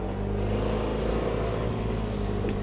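A vehicle rolling slowly along a forest track at night, a loud steady engine rumble with low road noise close by throughout, no talking.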